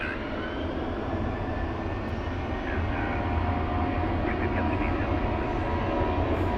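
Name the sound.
American Airlines Boeing 737 airliner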